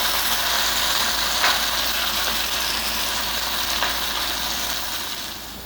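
Beef pieces deep-frying in hot coconut oil, restaurant-style Kerala beef fry, giving a continuous broadband hiss and crackle over a low hum, fairly steady and slowly easing toward the end.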